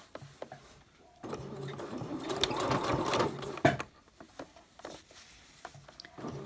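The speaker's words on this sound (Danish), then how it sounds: "Og så syr jeg her med en centimeter sømrum." A domestic sewing machine stitches softshell jacket fabric with a one-centimetre seam allowance and the walking foot lowered, a soft whirring run of stitches in short and longer bursts with small clicks between.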